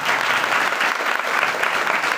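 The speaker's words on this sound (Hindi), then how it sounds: "ताली बजाकर प्रभु को धन्यवाद।" A church congregation clapping hands in thanksgiving during a Hindi sermon, loud, dense, continuous clapping sustained throughout the short stretch.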